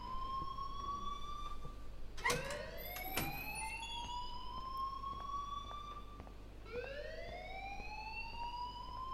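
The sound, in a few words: school alarm ringing in video game Life Is Strange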